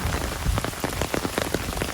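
Rain falling in a public park, a dense, steady patter of drops striking nearby surfaces, loud and close with scattered sharper splashes and no voices.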